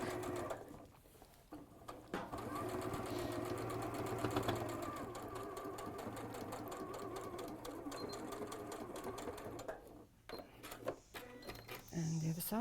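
A sewing machine runs fast and continuously as it stitches across a seam, with a brief pause and change near the end as it reverses; a voice speaks over parts of it.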